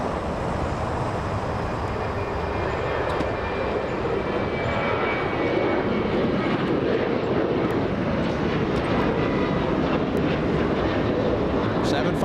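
An airliner takes off at Los Angeles International Airport, a loud, continuous jet engine roar that builds slightly and holds steady, with people talking quietly underneath.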